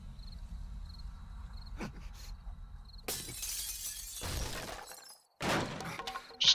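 Window glass breaks in the video game Desolation 2, a sharp crash followed by a scattering shatter that fades out, then a second bright crash near the end. Quiet ambience plays beforehand.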